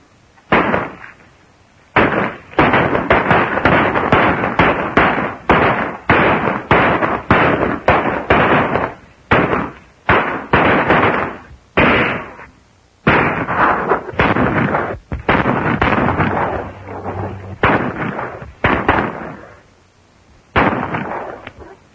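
A western film shootout fills the scene with rapid, loud gunshots, many sharp bangs in quick irregular bursts with brief gaps between volleys.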